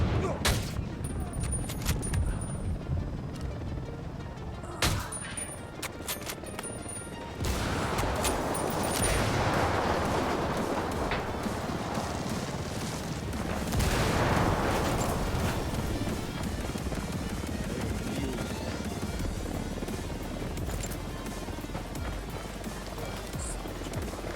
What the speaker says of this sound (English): Call Pacatori for some mortar fire